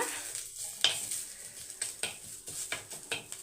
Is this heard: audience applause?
no